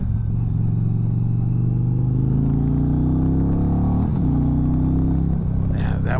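An Indian Challenger motorcycle with the 108 engine rumbles loud and close with a deep throbbing exhaust. Its pitch climbs steadily as it revs, dips, then builds again while riding.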